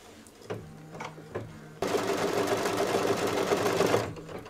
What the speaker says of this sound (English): now it's going to stitch the exact same thing again on the second pocket for the oven mitt